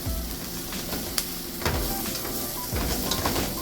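Meat sizzles and fries in a pan over a lowered flame while being stirred, a steady close hiss broken by a few scraping stirs, with no talking.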